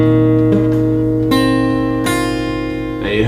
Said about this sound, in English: press down on all 6 strings and then pluck from the bottom note to the top note